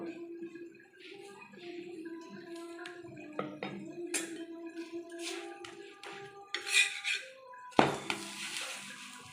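Paneer roti being flipped on a hot tawa and dabbed with ghee: light metallic taps and scrapes of a spatula, a soft sizzle, then a louder clatter near the end, with a voice talking faintly throughout.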